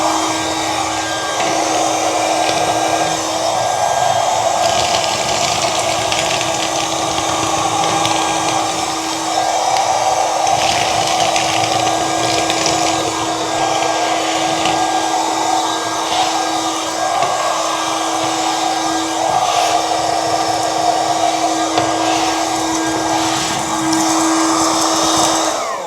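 Ryobi cordless window vacuum in a bathroom, held at a vertical angle, sucks up liquid with a steady high-pitched motor whine and gurgling airflow, close and continuous for the whole stretch with no talk.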